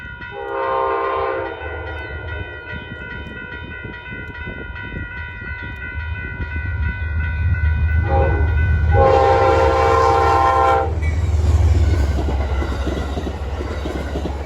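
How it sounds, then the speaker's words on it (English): Amtrak 237 from New York Penn Station to Albany-Rensselaer passing along the Hudson line, sounding two loud blasts of its horn, a short one early and a longer one later, over a deep rumbling, building rail roar. "That was Amtrak 237 from Penn Station, New York to Albany Rensselaer"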